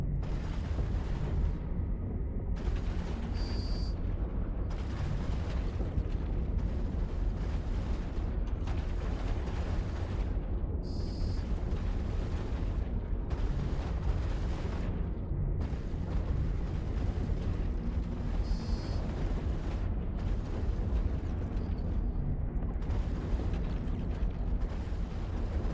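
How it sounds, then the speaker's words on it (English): An artillery barrage rumbles through a video game as a dense, continuous roar of distant blasts and low booms, broken by a few brief high electronic beeps, without talk. "Right, barrage."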